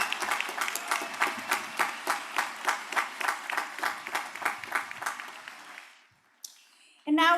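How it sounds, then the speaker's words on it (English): Audience applause for master's degree graduates at the Elizabethtown College 2024 commencement, a steady rhythmic clapping from a large crowd that fades out into near silence, followed by a brief rustle and a sudden loud burst at the end. "Please let's have another round of applause for our master's degree graduates"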